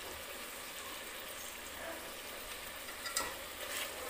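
A chicken biryani mixture with ginger paste gets roasted and stirred in a pan over low heat, making a quiet, continuous frying hiss with occasional scraping, heard close with no voices.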